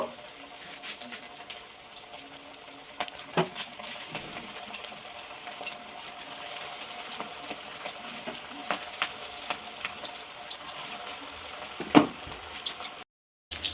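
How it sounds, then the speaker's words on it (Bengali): Chicken pakoras fry in hot oil with a steady, soft sizzle throughout, broken by occasional sharp pops and crackles. "এইরকমভাবে বাকি পাকোড়াগুলোও ভেজে নেব।"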